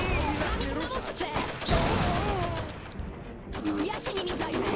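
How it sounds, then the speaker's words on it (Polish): Rapid bursts of machine gun fire in the video game Iron Harvest crackle continuously, with a brief lull before the shooting resumes, and voices shout in the mix. "That's a machine gun, which means we should not be in its immediate field of fire."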